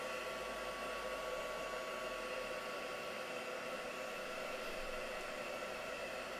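A heat tool blows in one continuous, steady hiss to dry a handmade spring craft card. No one speaks over it.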